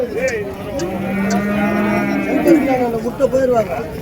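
Cattle at a rural cow market, a loud bull-like moo swelling up close amid background crowd chatter and people talking nearby.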